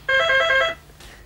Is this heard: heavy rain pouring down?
no